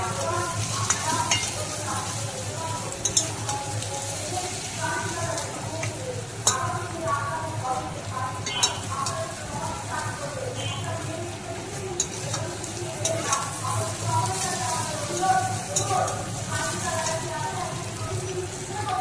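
Chili powder and Kashmiri chili powder stirred into hot oil in a pan for an aloo dum breakfast, giving a steady close sizzle and fry with scraping stir strokes throughout.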